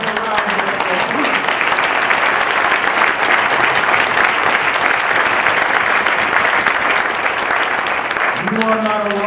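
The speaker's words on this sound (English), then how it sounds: "Give yourselves a round of applause." An audience at a political caucus fundraiser applauding loudly and continuously for several seconds, a dense wash of clapping that begins and ends with a voice.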